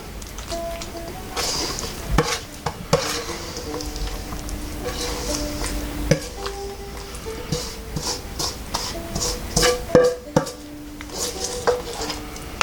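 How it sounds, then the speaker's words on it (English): Thick blackberry pie filling is scooped into a pie plate and spread around, with a steady run of close scraping, tapping and clinking of a utensil against the dish and no talk. "So now we'll put our mixture into the pie plate and get ready to put the top on."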